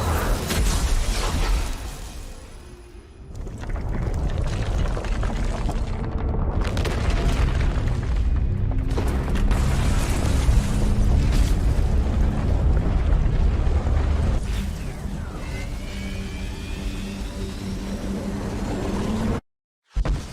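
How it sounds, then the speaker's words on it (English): An explosion in the Subverse sci-fi video game, a loud, deep rumbling boom that rolls on for many seconds amid roaring, wind-like noise before cutting off abruptly near the end. "we just saw the explosion"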